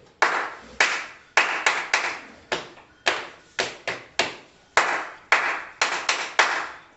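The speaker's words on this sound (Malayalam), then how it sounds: "കൈകളും തൈയും കൂടി തുടയും കൂടി ചേർന്നിട്ടുള്ള ഒരു ക്ലാപ്പാണ് നമ്മൾ ഇനി പഠിക്കുക" Rhythmic body percussion as a scout group practises the thigh clap, hands striking together and slapping the thighs in sharp, close bursts in a patterned sequence with brief gaps between groups.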